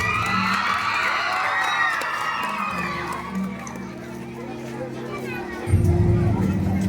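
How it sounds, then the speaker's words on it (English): Crowd cheering and shouting, with children's voices, at a 78th Independence Day celebration. Loud excited voices come first, then low humming tones and a renewed burst of crowd noise near the end. "All of you clap for Abhinu sir."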